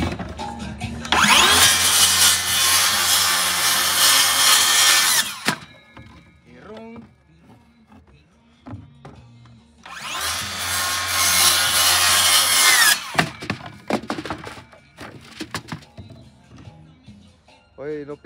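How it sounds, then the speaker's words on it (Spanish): A power saw cuts through wood in two loud bursts of several seconds each, the high ripping whine separated by a quieter pause with scattered knocks and handling noises. "¿Por qué no regula la puta sierra?"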